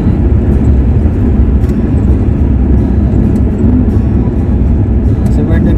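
A car drives over the rough, uneven surface of the Mumbai–Goa highway near Rajapur, its tyres losing grip. A loud, steady low rumble and vibration continue without a break throughout.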